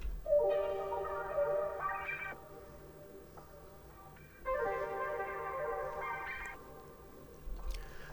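A sustained melody sample drenched in Lexicon hall reverb and a Cymatic Illusion flourish texture, playing two swelling phrases with long, shimmering tails that fade between them, alone with no talk.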